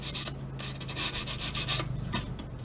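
Soft balsa wood sanded by hand while shaping a model glider, a close, dry rasping in a run of quick back-and-forth strokes that stop and start, with no one talking.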